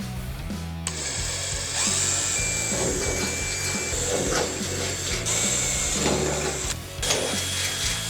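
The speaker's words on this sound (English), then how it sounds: "I could just mark my holes through the back side and drill from there" A power drill whines steadily at close range in several long bursts, drilling holes in a race car switch panel, pausing briefly between runs, with clattering and handling noise underneath.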